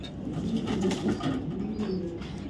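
Low, rolling coos from a loft of racing pigeons continue throughout, close and steady, with faint rustling and no speech.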